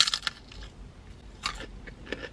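Crunchy straw-shaped Indian snacks being bitten and chewed up close, a few sharp crisp crunches in short bursts with quieter chewing between, no talking.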